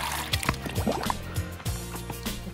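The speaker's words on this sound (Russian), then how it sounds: "Поднимаем. И одна течет водичка." A squirt toy egg lets water trickle and drip in a thin stream, close up, with irregular splashy droplets and soft bubbling over about two seconds.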